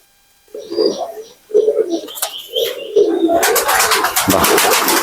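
Pakistani pigeons coo in soft repeated low calls close by, with several distinct bursts; someone speaks over the later part as the birds keep cooing.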